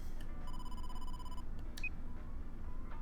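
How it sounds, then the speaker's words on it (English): A phone rings with a steady electronic tone in the video game AI: The Somnium Files, over a low background hum with no talk, followed by a short beep. "Date, the boss is calling"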